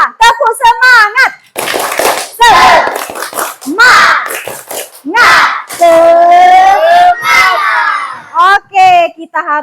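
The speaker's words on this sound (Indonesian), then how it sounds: "Coba tepuk semangat." A class of schoolchildren doing the tepuk semangat, a rhythmic clapping chant, with loud claps in patterned bursts mixed with shouted, sung syllables from many young voices together.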